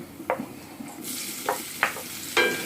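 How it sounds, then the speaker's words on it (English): Carrots in a light fry over medium heat in a pan, a soft sizzle under four quick scraping strokes as a utensil stirs them. "just giving the carrots a light fry"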